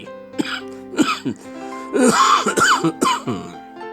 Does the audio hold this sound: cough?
yes